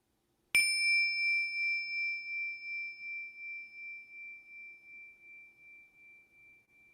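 A single meditation bell is struck once and rings out clearly, its pure sustained tone with bright overtones decaying slowly and evenly over about six seconds in an otherwise silent room.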